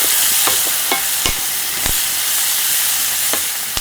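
Onions frying in a pan with mustard seeds, cumin and curry leaves for an Andhra meal, a steady close sizzle punctuated by sharp crackles and occasional stirring knocks throughout.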